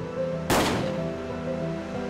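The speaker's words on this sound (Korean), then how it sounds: "이곳에서 날카로운 총성이 울려 퍼졌습니다." A single sharp gunshot rings out loud and close in a reconstructed scene of a post-liberation Seoul street near the former Government-General building, its crack decaying into a long echoing tail over a steady low hum.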